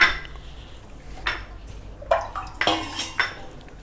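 Water poured into a pan of jaggery to dissolve it, heard as several short splashing, clinking bursts against the metal over a quiet kitchen background, with no talking.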